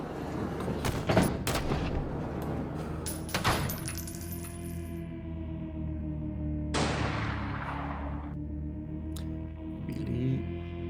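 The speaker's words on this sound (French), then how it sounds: "Il nous donne des coups de feu dans la porte." Gunshots fired into a door as a sound effect in a French horror tabletop role-playing session: a few sharp, loud cracks, two close together near the start and another a couple of seconds later, over a steady musical drone.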